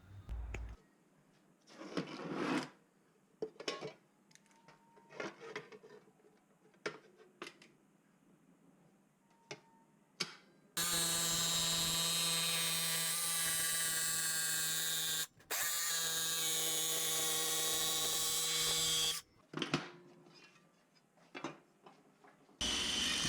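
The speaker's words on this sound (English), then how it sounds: "Cordless jigsaw with an aluminium cutting blade is excellent for cutting aluminium tube and other awkward shapes." A cordless jigsaw fitted with an aluminium-cutting blade saws through aluminium tube in one loud, steady, harmonic-rich run of about eight seconds with a brief break, framed by quieter clicks and handling noises.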